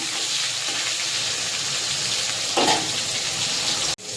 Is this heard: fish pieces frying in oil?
yes